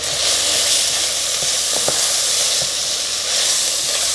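Spices and chili powder sizzle in a hot pan with a steady, close hiss, broken by a few faint clinks and stirring sounds, with no voices.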